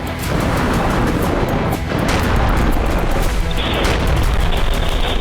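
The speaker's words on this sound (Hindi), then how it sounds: "गाजा का कोना कोना बम गोला बारूद से दहल रहा है।" Bomb and shell explosions pound Gaza in a dense, continuous roar of deep booms and rumbling blasts, loud and close, with no pause and no talk.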